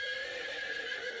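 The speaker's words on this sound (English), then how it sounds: "It makes the sound, neigh." A horse neighs with a sustained, steady whinny that stands alone at moderate loudness, with no talk over it.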